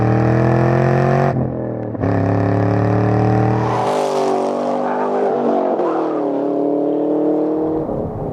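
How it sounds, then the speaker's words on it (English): Chevrolet Camaro SS V8, a 2013 model with exhaust muffler flaps opening, growls loud and raspy, dropping briefly then revving up again with strong harmonic engine tones and no speech. "There's little flaps in the mufflers that open up and give you the full raspy V8 growl that you want."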